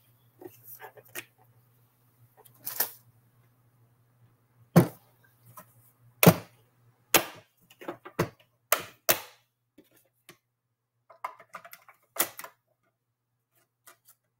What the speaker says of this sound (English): So there is a die to cut out that tiny strawberry.